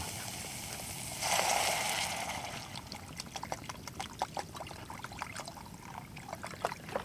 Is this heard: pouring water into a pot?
yes